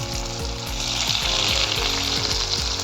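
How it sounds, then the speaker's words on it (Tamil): Veg cutlets deep frying in hot oil over a medium flame, a steady close sizzle and bubbling, with a soft rhythmic stirring or scraping sound running through it. "கட்லட் ஷேப்பை மீடியம் ஃப்ளேம்லேயே வச்சு நம்ம ஃப்ரை பண்ணி எடுக்கலாம்."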